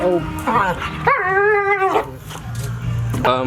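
A dog in Jamaica gives a run of close, loud barks and yips, some drawn out into short howling whines, with a person's voice mixed in between.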